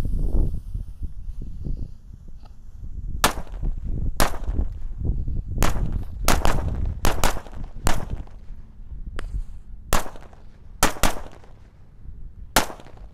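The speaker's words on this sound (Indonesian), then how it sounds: "ini ada mercon korek original yang jumbo guys, Corsair, warnanya hijau sampulnya" Jumbo Corsair match-type firecrackers in a green wrapper go off as a string of about a dozen sharp, loud bangs at irregular intervals over low background rumble.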